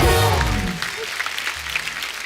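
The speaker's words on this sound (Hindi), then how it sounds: "एक बार जोरदार तालियां हो जाए जवानी जाने मन की पूरी स्टार कास्ट के लिए" Studio audience on a Hindi comedy talk show applauds the star cast, a dense burst of clapping that starts loud under a lingering voice and thins to scattered claps.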